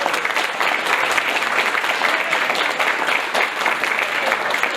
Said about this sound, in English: Could you give them a nice big round of applause here?